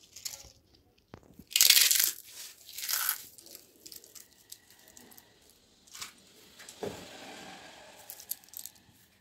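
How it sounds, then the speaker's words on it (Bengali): Potato chips are broken by hand over a street-style ragda chaat, giving a loud burst of dry crunching and crackling followed by smaller scattered crunches and rustles, close up with no talking. "এবার দিয়ে দেবো আলুর চিপস, একটু ভেঙে দিতে হবে।"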